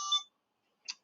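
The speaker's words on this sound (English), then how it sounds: "That's just my alarm." Phone alarm beeping in two short electronic bursts separated by a silent gap, fairly faint and alone.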